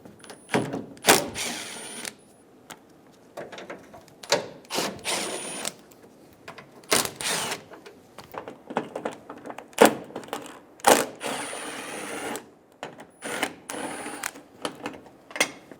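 A ratchet with a 10mm socket works on the headlight bolts of a Toyota Tacoma, giving repeated close clicking bursts broken by short pauses and occasional metallic clinks.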